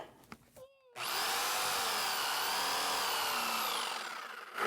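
A power drill whines steadily for several seconds at close range, its pitch rising and falling slightly under load, after a brief softer rattle at the start.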